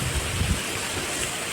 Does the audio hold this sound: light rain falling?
yes